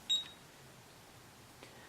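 A DSC security alarm keypad gives a short, high, clear beep to accept a new user code. A much fainter blip follows later in a quiet room.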